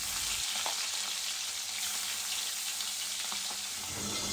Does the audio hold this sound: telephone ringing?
no